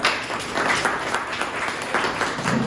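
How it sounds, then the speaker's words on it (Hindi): A seminar audience in Jharkhand claps loudly, the dense applause swelling and easing in waves over a few seconds. "इसके लिए जोरदार ताली सर"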